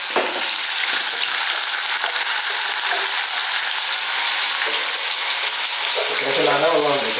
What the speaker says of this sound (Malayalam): അപ്പൊ നമുക്ക് ഈ എണ്ണയിലേക്ക് നമ്മുടെ ഉരുളക്കിഴങ്ങെല്ലാം ഇട്ട് കൊടുക്കാം